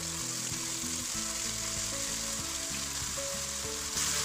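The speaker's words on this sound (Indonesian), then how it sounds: "Akan saya tumis sampai bumbu harum dan layu." Ground spice paste sizzles in hot cooking oil in a wok for an Indonesian dish, a steady close frying hiss that runs alone and unbroken for a few seconds.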